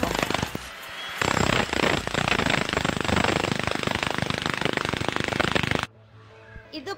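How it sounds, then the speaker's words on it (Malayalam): A drill cuts the concrete underside of a staircase during house lifting work, its loud continuous hammering roar filling most of the span before cutting off abruptly into quieter background. "സ്റ്റെയർ കേസിന്റെ അടിഭാഗം കോൺക്രീറ്റ് ഇട്ട ഭാഗം ഡ്രില്ല് വെച്ച് കട്ട് ചെയ്യാൻ"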